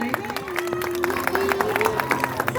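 A school audience at an Independence Day program claps loudly and steadily, dense crowd applause with a sustained voice or tone running through it and scattered sharp claps throughout.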